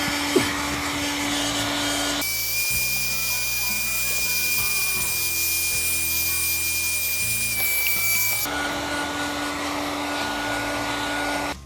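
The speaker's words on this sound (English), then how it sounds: "We're just basically going to take our heat gun or our hair dryer and we're going to heat this up." A heat gun or hair dryer runs steadily as it heats a homemade waterproofing mixture, its loud continuous whine and airflow roar changing pitch when switched between settings partway through.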